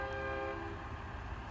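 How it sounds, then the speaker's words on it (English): A pickup truck fitted with a train horn sounds one long, sustained blast in a store parking lot, heard at moderate distance and fading slightly toward the end. "A truck over there just yanked his train horn."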